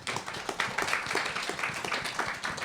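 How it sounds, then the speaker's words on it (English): An audience at a business summit applauds, a dense, steady round of clapping lasting the whole moment. "let's give a round of applause for these great people up here"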